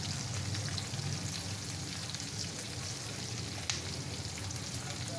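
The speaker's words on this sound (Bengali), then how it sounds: "এবার পেঁয়াজগুলো দিয়ে দেবো।" Onions frying in oil for a small-fish curry give a steady, close sizzle that runs unbroken throughout, with one brief clink partway through and no talking.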